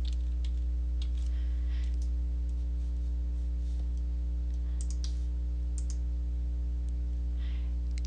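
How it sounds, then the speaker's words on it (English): Username and password are typed on a computer keyboard, giving faint, irregular key clicks over a loud, constant electrical hum throughout, with no voices. "please type in your username and password"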